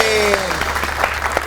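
A studio audience at a television comedy show claps for a guest, a member of the Punjab Assembly, in a brief burst of scattered handclaps that starts as a held musical tone fades.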